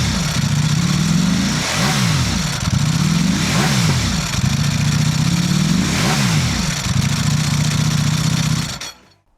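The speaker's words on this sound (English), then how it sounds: "the real reason is a chance to sound like a proper racing Ducati." Ducati performance motorcycle with a dry clutch revving repeatedly, its engine pitch swooping up and down in a steady cycle over a constant rattling clatter, close and loud until it cuts off at the end.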